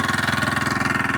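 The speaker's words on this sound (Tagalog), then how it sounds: "Sisip-sip kami ng water pump" A small water pump engine runs close by at a working site, producing a fast, even, thumping putter with a steady pulse and no talking.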